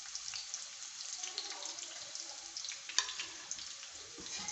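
Sliced bitter gourd (karela) fries in hot oil in a home kitchen, giving a steady, fairly quiet sizzle with crackles throughout and no talking.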